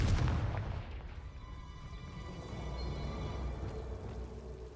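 A Confringo fire spell bursts in Hogwarts Legacy, a loud booming blast at the start that rolls into a dense, crackling rumble fading over several seconds, with no talk.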